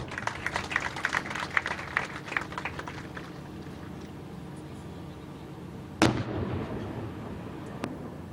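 Military weapons firing in an artillery exercise: crackling, rumbling reports fill the opening seconds, then a single loud, sharp blast lands near the six-second mark and its rumble trails off into the distance.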